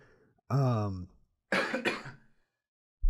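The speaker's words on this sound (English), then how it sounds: "I just had to cough again" A person recovering from a cold coughs twice up close: a harsh, voiced cough followed by a breathier, rougher one, with brief silence around them.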